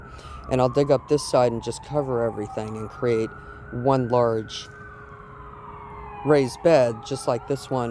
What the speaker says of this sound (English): That was the ambulance.